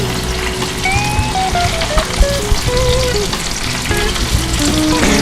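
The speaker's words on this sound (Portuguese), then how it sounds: "Praticamente pronto essa fritura." A breaded steak milanesa fries in hot oil, giving a dense, steady sizzle with crackling bubbles close by; faint clinks and tonal squeaks sit over the frying, and no one speaks.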